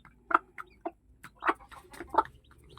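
Chicks cluck in short, separate bursts while hunting for feed after drinking vitamin water, several close calls spread unevenly over a quiet low background.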